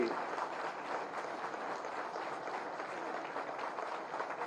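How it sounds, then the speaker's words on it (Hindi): Crowd applause welcoming Yogi at a ceremony inaugurating fire stations and flagging off fire engines, a steady, moderately distant rush of many people clapping with no break. "तालियों की गड़गड़ाहट से, ताली से बजाकर स्वागत कर दीजिए आप सब"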